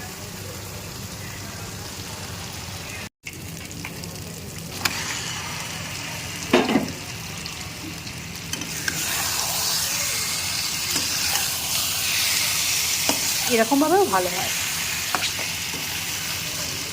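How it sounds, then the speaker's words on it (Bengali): Masala for mutton curry sizzles and hisses steadily in a hot pan, with occasional stirring clatter, and someone speaks briefly over the frying. "আজকে ভালো করে মশলাটা কষিয়ে নিই, তারপর মাটনটা দেবো।"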